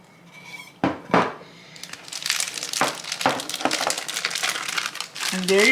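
Crinkling and crushing plastic bag sounds, close and continuous, with a few sharper rustles and a brief voice-like tone near the end.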